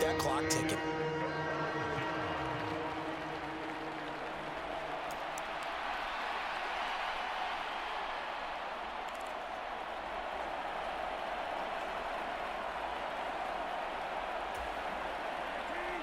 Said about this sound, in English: this crowd urging on their defense. They're up and making noise.